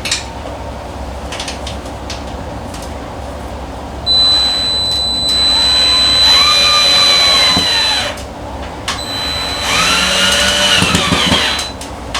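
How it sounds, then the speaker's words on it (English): Power drill driving four screws while a whole house fan is installed in an attic, heard as two loud, sustained whirring bursts with a steady background hum between them. "now what we got to do is we got to put in 4 screws"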